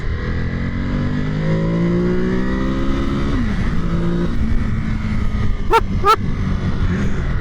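A 2021 Ducati Monster Plus motorcycle engine running loud and close, its pitch rising and falling as the throttle is opened, followed by a couple of sharp short blips near the end.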